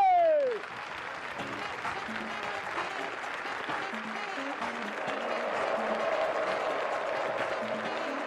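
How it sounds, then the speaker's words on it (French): A stand-up comedy audience breaks into loud, sustained applause, a dense wash of clapping that swells slightly toward the end, with a short musical sting at the start. "Un tonnerre d'applaudissements, s'il vous plaît, pour Herman Amissi de la RDC."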